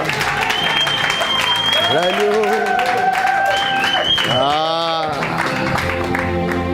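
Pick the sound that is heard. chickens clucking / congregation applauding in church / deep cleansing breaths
congregation applauding in church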